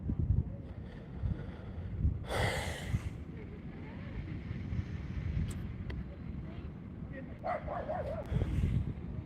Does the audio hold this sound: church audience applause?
no